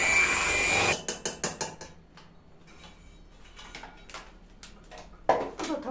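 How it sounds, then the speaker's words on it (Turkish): Cream for a kedi dili cake being beaten until silky: a loud electric mixer whir at first, then a run of quick, sharp clicks and taps against the bowl, fading to scattered knocks with one louder clatter near the end. "İpek gibi olasıya kadar tekrar karıştırıyorum."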